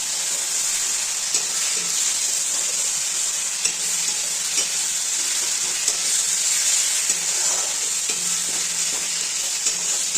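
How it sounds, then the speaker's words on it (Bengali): Chicken masala frying in a pan: a steady, fairly faint sizzling hiss with occasional soft scrapes of stirring, alone without voices. "আস্তে আস্তে করে আমি চিকেনের মশলাটা কষিয়ে নিচ্ছি।"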